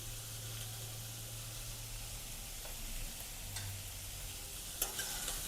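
Vegetable masala Maggi noodles are stirred in a frying pan, a soft, steady sizzle with gentle scraping of the spoon, faint and close, with a low hum underneath and no talk.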